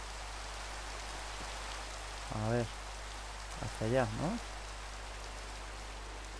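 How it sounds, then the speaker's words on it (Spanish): Rain falls in Minecraft as a steady, soft hiss that runs the whole way through, while someone briefly speaks Spanish over it. "Tienes la suerte que está lloviendo."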